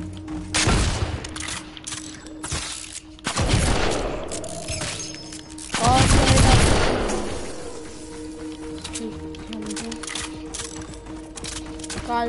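Pistol gunfire in a PS4 shooter game, with sharp bursts of shots around one, three to four and six seconds among background game noise and a steady electronic hum, plus some talk.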